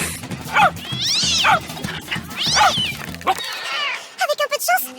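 Cartoonish cat meowing in a pet-care video game, several rising and falling meows and caterwauls over looping background music, followed by short chirping calls; a voice speaks briefly.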